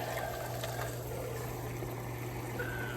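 A small electric pump pushes water around a homemade ice bath, a faint steady watery churn over a constant low electrical hum, with no talking.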